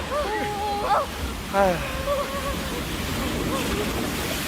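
Stormy sea with waves and wind battering a boat, a continuous roar of surf and gusts that runs under several people's anxious voices.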